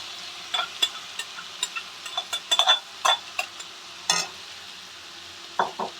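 Fried potatoes are worked into a spice paste in a pan for a Barisal-style tilapia curry, with scattered scraping stir clinks over a soft, steady sizzle; no voices.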